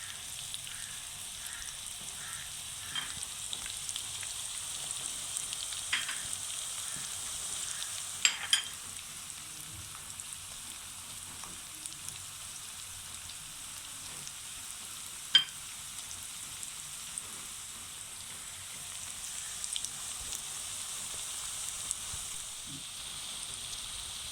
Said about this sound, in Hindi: मैं इसको आस्ता आस्ता पकाऊंगी कि आपको पता चल रहा होगा कि वो आस्ता आस्ता फ्राई हो रही है